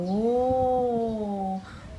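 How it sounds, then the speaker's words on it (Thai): A cat gives one long, drawn-out meow with a rising and falling wail, loud and close, then it fades out. "แมวเหมียว เจ้าอย่ามากินไดโนเสาร์เรานะ"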